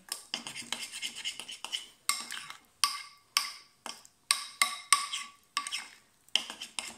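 A spoon or spatula scraping and stirring sourdough levain in a bowl, in repeated rhythmic strokes with short pauses, close and fairly quiet, no voices.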